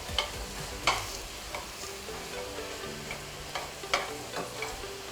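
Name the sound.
mince frying and browning in a pan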